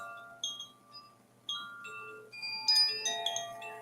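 Wind chimes ring outdoors in the morning, sparse clear metallic tones at first, then a denser cluster of overlapping notes, faint and alone.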